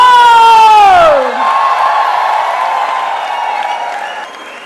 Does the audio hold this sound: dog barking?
no